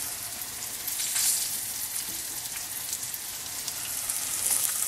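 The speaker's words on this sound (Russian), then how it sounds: "Обжариваем все кабачки." Zucchini slices sizzle steadily in a hot pan, a close, continuous crackling hiss of oil with small pops scattered throughout.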